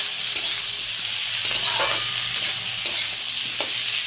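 Onion and spices such as turmeric, cumin and coriander fry in a pan with tomato and green chilli, giving a constant close sizzle broken by a few sharp stirring scrapes, with no voices.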